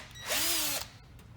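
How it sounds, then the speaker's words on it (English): A power drill fitted with a 17/64 bit bores through pre-drilled holes while fitting a fold-down UTV windshield, giving one steady whining burst of just under a second that rises and then stops. "So now I'm going to just finish drilling out those holes that we pre-drilled."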